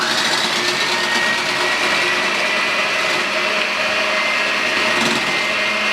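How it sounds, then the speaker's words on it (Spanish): An electric hand mixer beating eggs for a chocolate cake whirs steadily and loudly, beating without pause for the whole stretch. "Aquí voy a empezar a usar mi batidora"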